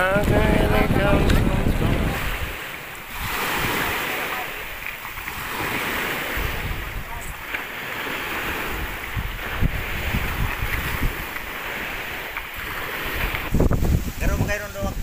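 A small boat moves across open water off an island. Engine drone mixes with wind buffeting and waves slapping the hull, loud and close throughout, with brief stretches of voices nearby.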